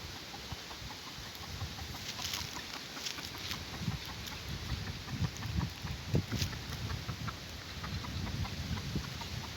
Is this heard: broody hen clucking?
yes